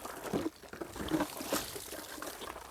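Water is splashed in repeated uneven bursts onto dusty solar panels to clean them, the pours and splashes fairly close and moderately loud, with no talk.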